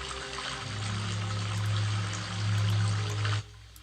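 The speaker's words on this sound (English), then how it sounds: "Man, the water is really loud" Water flows and pours loudly and steadily in the Drakwald Forest area of Warhammer Odyssey, swelling once midway, then cutting off abruptly near the end to a quiet background.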